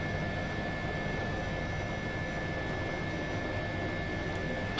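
Aircraft engines hum and whine steadily in a flight simulator game as planes, including an H-135 helicopter, hover and land on a platform during a Croatian search-and-rescue training session. The sound is a constant, fairly faint drone with a thin high tone.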